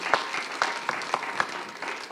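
Light, sparse clapping from a small audience at a lung cancer screening talk, a handful of distinct individual claps spaced out over two seconds against quiet background.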